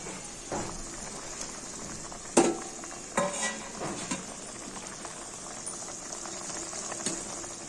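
Thick curry gravy for a Bengali chorchori bubbles on the stove as banana flower pieces go in, a low simmer broken by a few sharp clanks and stirring scrapes.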